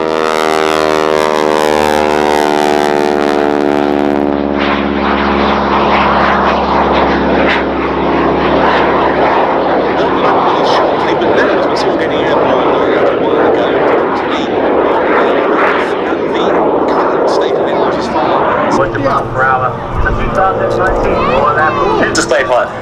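Propeller display aircraft performing at the Duxford Air Festival, a loud sustained engine roar that shifts in pitch as the plane manoeuvres overhead, with an announcer's commentary running over it.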